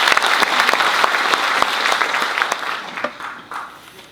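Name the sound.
applause at a conference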